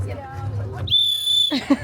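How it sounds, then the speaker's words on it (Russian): A clay toy whistle (svistulka) blown once in a sustained, piercing high tone lasting about half a second, preceded and followed by a person talking nearby at a coffee festival. "Эта штука не просто игрушка-свистулька, это используется именно для детей."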